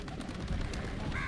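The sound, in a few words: pigeons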